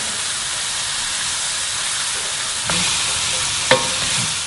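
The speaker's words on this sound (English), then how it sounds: "Now we're going to add the chopped onion." Chopped onion hits hot pancetta in a pan for a spaghetti Bolognese, giving a steady, close sizzle and hiss throughout, with a couple of brief stirring scrapes near the end.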